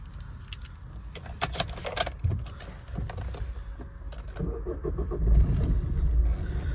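A 2019 Maruti Suzuki Vitara Brezza VDI diesel car is started nearby: keys jangle, the starter cranks, and the engine catches into a steady, louder idle rumble.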